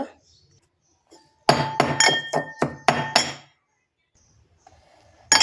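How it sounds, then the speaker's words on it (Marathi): Cumin, green chillies and garlic pounded in a mortar, a quick burst of about seven sharp, ringing strikes close by, with near silence before and after. "थोडेसे जिरे आणि हे तीन चार हिरव्या चार पाच हिरव्या मिरच्या आणि लसूण मस्त कुटून घ्यायचं"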